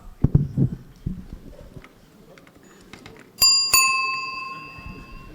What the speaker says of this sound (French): vous aurez la très grosse sonnette pour vous dire que vraiment le temps de parole sera terminé pour vous